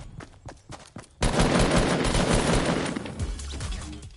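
Fortnite gunfire starts with a few sparse shots, then turns into a loud, dense, sustained burst of rapid fire that runs to the end with no talk.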